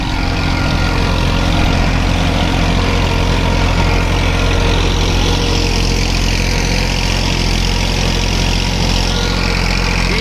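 A Massey 5245 46HP tractor runs a deluxe rotary tiller in third gear low through a dry field, its engine giving a steady, loud, continuous drone with a low rumble and no talk.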